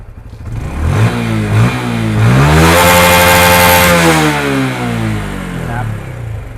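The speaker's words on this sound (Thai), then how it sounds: "สังเกตได้ยินเครื่องยนต์ไหมครับ สปริงวาล์วมันลั่นแล้วนะครับ" A Honda Wave 125i LED 2021 motorcycle with a remapped ECU revs loud and close, its engine note climbing steadily to a high sustained pitch and then easing off slightly, with mechanical clatter in the mix and no talking.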